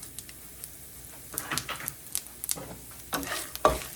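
Chana dal, mustard seeds and cumin sizzle in hot oil while being stirred for lemon rice, a quiet crackle with intermittent scraping strokes against the pan that grow louder toward the end.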